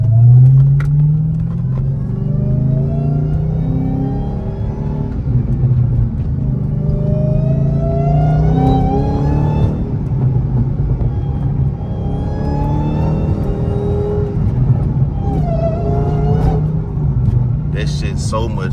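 A Dodge Hellcat fitted with a new cold air intake rumbles loudly and close, its engine swelling through repeated revs and accelerating pulls with a deep, throaty drone and rising pitch sweeps.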